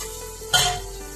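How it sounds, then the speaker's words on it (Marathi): Chili and onion sautéing in oil for mutton kheema, a short steady sizzle with a brief louder burst of stirring scrape in the middle, close by and with no voices. "मिरची आणि कांदा टाकलेला आहे परतायला."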